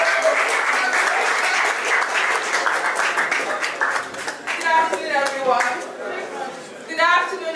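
Sustained audience clapping at the SME 25 Under 25 awards ceremony, loud and even at first, then thinning into scattered claps as voices and chatter rise through the room.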